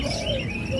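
Caged songbird singing loudly at a bird-selling kiosk in a market, a continuous stream of sustained whistles and chirps close up, rich and busy with no pauses for the whole stretch.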